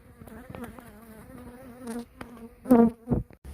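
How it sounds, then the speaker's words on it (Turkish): Bees buzz close by around a hive after cold, snowy weather, in a wavering drone that swells into louder, sharper bursts toward the end. "Kışta böyle soğuk havalardan sonra agresif oluyor arılar"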